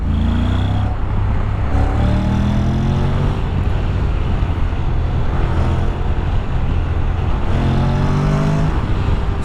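A 2021 Honda NC750X DCT motorcycle rides through heavy traffic, its engine droning steadily and its revs stepping up and down through gear changes, with wind rush and surrounding road noise throughout.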